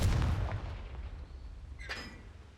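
A Confringo spell blast in a Hogwarts video game: a muffled boom at the start that quickly decays into a faint rumbling tail, with a brief sharp crackle shortly after.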